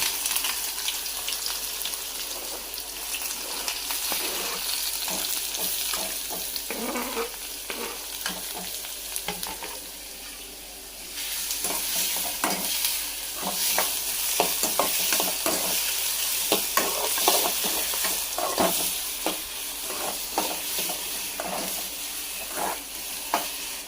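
Tomato and onion frying in hot oil with blackened garlic, a steady loud sizzle with stirring scrapes throughout and a brief dip in the middle.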